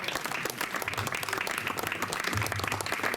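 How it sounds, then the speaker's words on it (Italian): An audience at an outdoor poetry contest in Sardinia claps steadily for a poet, a dense, even applause throughout with faint voices underneath. "Un applauso a Gavino."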